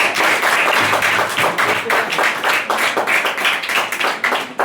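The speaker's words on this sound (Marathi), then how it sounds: "टाळ्या वाजवायच्या." Classroom students clap together in a dense, rapid burst of many hands, loud and close, with the claps thinning slightly toward the end.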